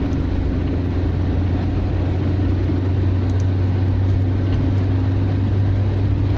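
A Talbot Horizon, originally a Chrysler model, driven fast along a bumpy road, its engine giving a steady low drone with constant road rumble, close and continuous throughout.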